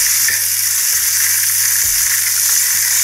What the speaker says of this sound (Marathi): आपल्याला हलवाई परतवून घ्यायचं जोपर्यंत पुदिना आणि कोथिंबीरीचा तो कच्चा वास जात नाही तोपर्यंत